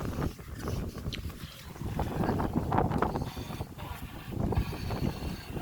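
Steady rush of heavy rain mixed with gusting wind buffeting the microphone, loud and continuous with no talking.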